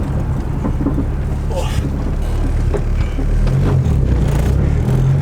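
Turbocharged Honda Integra DA engine droning steadily while driving and shifting through an aggressive clutch, loud interior cabin noise with wind rush, and voices talking briefly over it.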